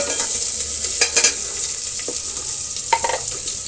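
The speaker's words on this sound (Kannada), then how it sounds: "ಮತ್ತು ಸ್ವಲ್ಪ ಕರಿಬೇವನ್ನು ಕೂಡ ಸೇರಿಸೋಣ. ಇಷ್ಟು ಚೆನ್ನಾಗಿ ಫ್ರೈ ಆಗಲಿ." Curry leaves and onion fry in hot oil for a Brahmin-style bottle gourd sambar, a steady close sizzle with brief crackling bursts and stirring scrapes over almost four seconds.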